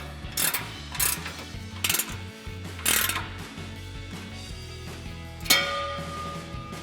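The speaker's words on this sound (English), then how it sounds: "So we've got an 8mm Allen socket on our ratchet and we'll tighten down our first clamp" An 8mm Allen socket on a ratchet tightens an exhaust clamp on a RAM 2500 MBRP single exhaust, giving several short bursts of ratcheting clicks close up with pauses between them.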